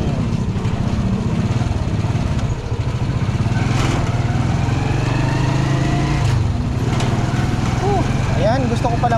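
Automatic motorcycle started with a single button press, then ridden: a close, continuous buzzing engine runs steadily throughout, with faint background noise.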